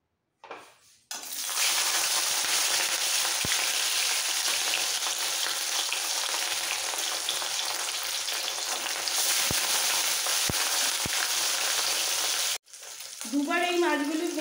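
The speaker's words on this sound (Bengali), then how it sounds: "সবার আগে মাছগুলো ভেজে নেব।" Katla fish pieces rubbed with salt and turmeric fry in hot mustard oil, making a loud, steady, close sizzle that runs without a break before stopping abruptly near the end.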